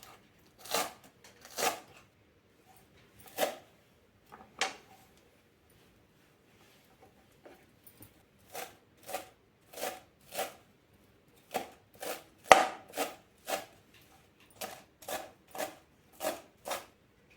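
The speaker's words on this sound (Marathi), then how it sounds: "प्रथम कोथिंबीर बारीक चिरून घेऊया।" A knife finely chops fresh coriander on a board in clusters of crisp, sharp taps, sparse at first then steady and rhythmic, close and clear with no talk.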